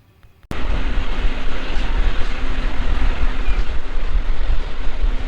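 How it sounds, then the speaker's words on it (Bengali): A passenger train rolls along the Lataguri line through the Dooars forest after leaving New Mal Junction, with a loud, steady, broadband rumble and rattle of wheels on rails that begins abruptly and continues close and unbroken. "এবার উল্টো দিকে যেতে শুরু করলো আমাদের ট্রেন"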